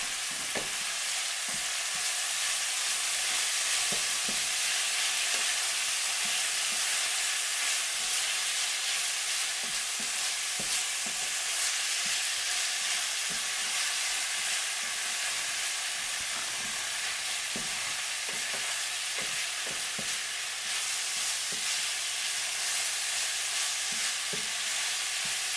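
Fish pie ingredients cook in olive oil in a pan, giving a steady, close sizzle and crackle that runs unbroken throughout, with scattered light ticks and pops from stirring and no voices.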